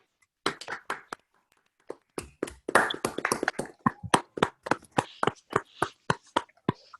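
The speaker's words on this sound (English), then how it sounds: "Let's please unmute ourselves briefly and applaud for Aras." Scattered claps from an online audience after an academic talk on topological data analysis, a few separate hand claps heard over video call microphones, irregular and sparse, each clap distinct rather than a blended roar.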